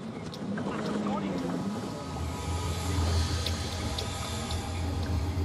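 A rescue boat engine off Bondi Beach eases off the throttle, a steady low drone with wind and water hiss around it.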